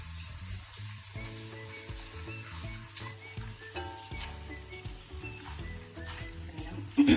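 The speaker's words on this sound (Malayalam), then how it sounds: "പൂള ഇതിലിട്ട് ഇങ്ങനെ വറുത്തെടുക്കാം നമുക്ക്." Tapioca slices deep-frying in coconut oil give a soft, continuous bubbling sizzle with occasional stirring clinks, partly under tonal background music.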